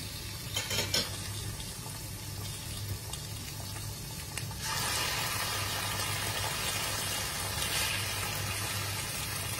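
Pork liempo pieces for afritada drop into a pan of browning onion and garlic, a brief clatter and stir giving way to a louder, steady close sizzle and hiss, no voices.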